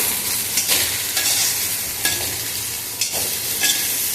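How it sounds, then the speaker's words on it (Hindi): Red chili powder and coriander powder being stirred into a frying pan, a steady scraping sizzle with soft spoon strokes repeating about once a second, close and alone. "लाल मिर्च पाउडर, धनिया पाउडर, सबको मिला के फिर अच्छे से मिक्स कर देंगे"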